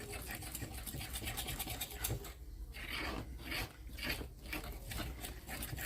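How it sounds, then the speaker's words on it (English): Butter and powdered sugar are creamed together for a brown sugar glaze, giving a faint, continuous scraping and rubbing of mixing with uneven strokes and no talking. "Go ahead and start creaming this and mixing it and creaming it in together."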